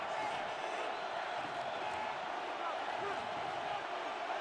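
A steady, dense roar of a stadium crowd fills a Madden NFL 26 football game near the goal line, constant and loud throughout, with a low-level speech-like murmur mixed in.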